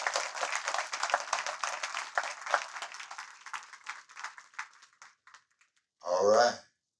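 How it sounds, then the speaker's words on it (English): An audience at a poetry reading gives a round of applause, dense at first and thinning into scattered claps before fading out, followed by a brief voice. "Come on, give her another round of applause,"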